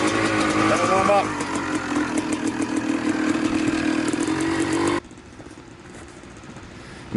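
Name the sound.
1988 Honda CR250 two-stroke motocross bike revving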